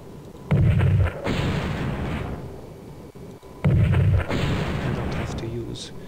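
Artillery fire in the video game Spellcross: two loud booming blasts about three seconds apart, each followed by a long crackling rumble that fades out.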